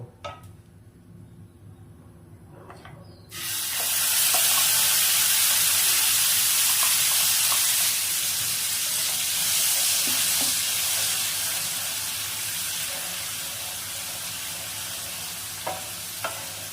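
Green masala paste hitting hot oil with a sudden loud burst of sizzling and stirring, the frying hiss staying dense and steady and slowly easing, heard close with no voices.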